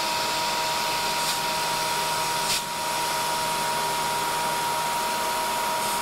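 A CNC Bridgeport mill machines sheet aluminum with a 1/4-inch cutter, giving a loud, steady, close-up roar with a faint tonal whine and little change throughout.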